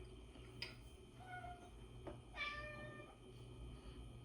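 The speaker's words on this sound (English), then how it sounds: "There's a cat" A domestic cat meows twice indoors during a home meal, each meow clear and fairly close, with a short quiet gap between them over a steady low background hum.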